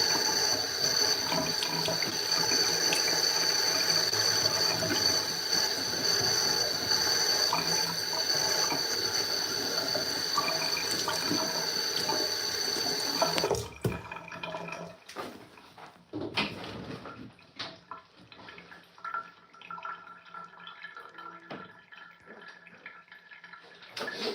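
Water runs steadily from a sink tap very close by in a washroom, a loud continuous rush for about thirteen seconds before it cuts off, leaving quieter clattering and dripping sounds.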